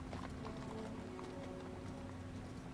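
Horse hooves clip-clopping at a steady running gait in Dynasty Warriors 8, a quiet continuous patter under a constant low hum of game ambience.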